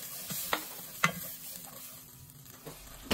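Garlic frying in butter in a pan for a crab sauce, a soft sizzle broken by several sharp scrapes and clinks of a utensil stirring, close and fairly quiet.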